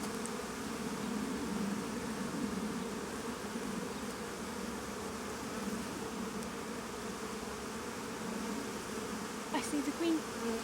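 Honey bees hum steadily in and around an open hive, a continuous low drone with a brief nearer buzz toward the end and faint voices nearby.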